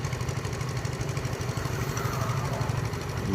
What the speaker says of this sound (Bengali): ঠিক বালু উত্তোলন করতে পুকুর থেকেই এইভাবে মেশিনের সাহায্যে, অর্থাৎ এটাকে বলা হয় ড্রেজার মেশিন